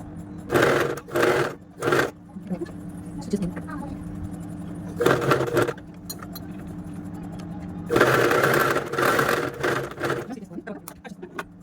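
A sewing machine stitches a simple kids' frock in short bursts of loud, fast whirring separated by pauses, with someone talking between and over the runs.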